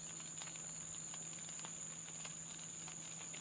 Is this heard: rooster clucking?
no